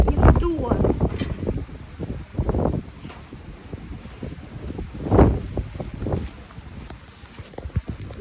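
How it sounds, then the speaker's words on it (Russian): Strong cyclone wind gusts buffet the microphone on the Yalta sea shore, a steady rushing roar with louder surges, while a person talks intermittently over it. "Просто все шатает от сумасшедшего ветра."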